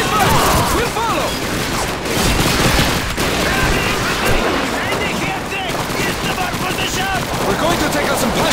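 Dense rapid gunfire in Call of Duty 2's WWII trench combat: a loud, continuous fusillade of machine-gun and rifle shots with heavy impacts, while soldiers' voices shout over the din.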